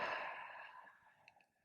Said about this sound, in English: Exhale, lion's breath.